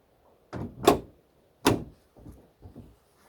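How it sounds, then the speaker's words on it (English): A wooden beehive lid is set down and closed at a new apiary with two soft thuds, then a few quieter knocks as it settles, close by in a quiet outdoor setting. "Should I close the lid?"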